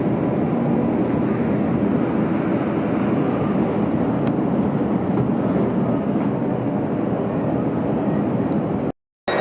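Steady low rumbling rail noise from inside a Scotrail train approaching Dumfries Station, a constant broadband roar with no distinct clanks, cutting off abruptly near the end.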